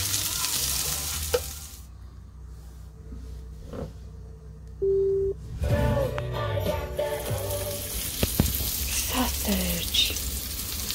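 Hash browns and bacon frying in a pan at a campground, a steady close sizzle and crackle with scattered pops, stirring noises and a brief beep partway through.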